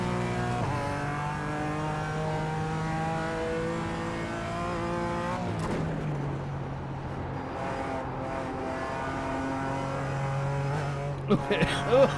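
Racing game car engine holding a steady revving drone through the gears, with a brief dip and tyre noise midway and sharp bumps near the end, under someone talking.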